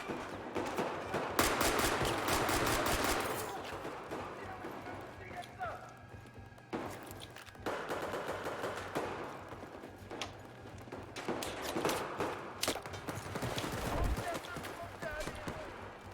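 Video game gunfire, rapid bursts of shots in quick clusters alongside footstep-like clatter, loud and close, while players talk over the action.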